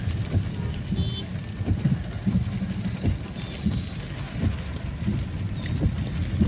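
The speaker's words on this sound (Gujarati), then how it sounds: "વરસાદ વરસાદ જમાવટ લીધો આ ત્રણ ચાર દિવસ થયા" Heavy monsoon rain falls on Surat after several days of nonstop downpour. It makes a constant hiss with a low rumble beneath and irregular louder spatters.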